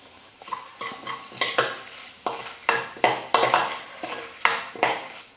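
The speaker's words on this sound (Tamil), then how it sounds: "வரமிளகா வந்து நல்லா கலர் மாறணும், அந்த அளவுக்கு நம்ம வறுத்துக்கணும்." Dry red chillies being stirred and fried in a pan while preparing rasam, with repeated scraping strokes of a spoon against the pan every half second or so over a soft sizzle, close and moderately loud with no talking.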